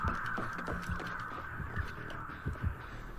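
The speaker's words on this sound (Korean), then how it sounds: "까마귀 소리 왜 들려?" Crows caw repeatedly in the video game Dead by Daylight, a steady run of short raspy calls with soft thumping game sounds beneath, no talking.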